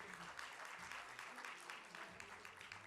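At a youth poetry grand slam, the audience claps for a poet after the scores, a faint, uneven burst of many hands with voices calling out among them.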